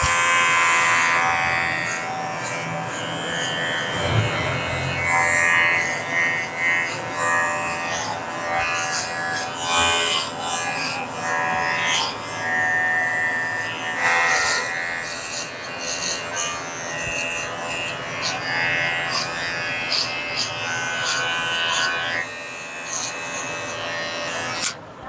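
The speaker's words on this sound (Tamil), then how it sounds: "ஸோ அதுக்கப்புறம் தாடி வந்து 1 பாயிண்ட் வச்சு ஃபுல்லாகவே ட்ரிம் பண்ண போகிறோம்." An electric trimmer set to the 1 guard buzzes steadily through a full beard trim, its close, continuous whir rising and falling slightly as it moves across the hair, with no talking.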